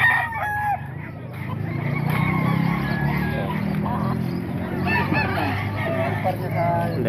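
Chickens cluck and a rooster crows nearby throughout, steady farmyard calls under people talking at a poultry sale.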